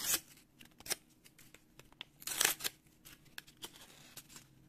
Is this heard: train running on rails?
no